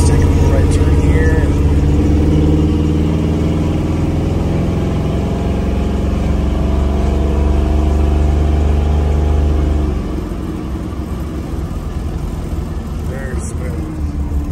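A 1972 Ford Bronco with a built 302 V8 driving, its engine droning steadily with a low rumble that drops off partway through as it shifts, while someone talks over it.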